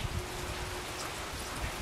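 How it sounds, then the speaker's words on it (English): Rain falls outdoors on a cold, windy day, a soft, steady hiss with light drop patter and nothing else standing out. "I'm just sitting out here enjoying the rain."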